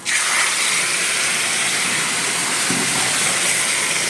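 Jute leaf greens drop into hot oil with fried onions, giving a loud, steady sizzling hiss that holds evenly throughout with no talking.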